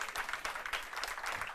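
An audience at a university law quiz competition applauds in a steady, dense wash of clapping that is moderately loud and continuous throughout, with no speech over it.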